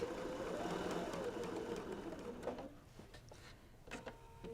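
A domestic sewing machine stitches wide chunky quilt binding in a steady, busy whir for about two seconds, then stops, leaving quieter fabric handling and small clicks.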